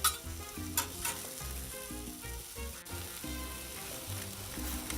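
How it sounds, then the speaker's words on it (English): About half a cup of sliced onions spread out and sauteing on a Blackstone griddle, a steady close sizzle with soft scraping and stirring throughout and no talking. "we want to saute some onions first, and I used about a half a cup sliced"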